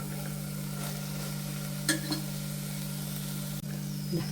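Boiled, deboned chicken is stirred into masala frying in a pan for a Thalassery erachippathiri filling, with a steady low hum under a soft sizzle and a few brief scraping strokes.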